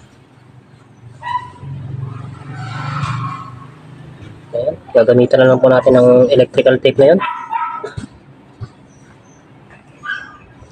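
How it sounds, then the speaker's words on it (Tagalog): A dog barks in repeated loud bursts around the middle, with whimpering yips nearby, during a Philippine home repair of a dryer that will not spin, and someone talks over it. "Sensya na po kayo sa aso na yan"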